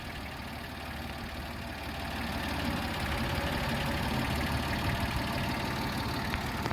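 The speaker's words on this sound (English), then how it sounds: "Got Ethan on the tractor." A tractor engine idles with a low, steady rumble and knock, growing a bit louder partway through, no voices.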